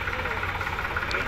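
A Swaraj 855 FE tractor engine idles at a tractor market in Talwandi Sabo, a brief, steady, close mechanical rumble with a faint background murmur of voices.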